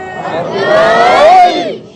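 A crowd at a Shia religious gathering chants the Nara-e-Haidari slogan as one loud, sustained voiced shout that swells and then fades over two seconds.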